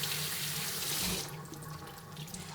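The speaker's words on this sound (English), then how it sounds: "you need to give your kale a really good wash" Kale being washed under a running kitchen sink tap: a steady, close rush of water that drops after about a second to a softer trickle with splashing as the leaves are rinsed, no talk.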